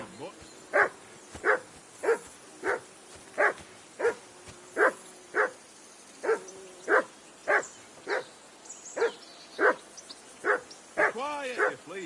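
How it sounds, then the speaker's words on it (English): A dog in the video game Kingdom Come 2 barks over and over in a steady rhythm, about two barks per second at close range, ending in a few higher yips and whimpers. "Quiet, you flea-bitten hound. Go away, mutt."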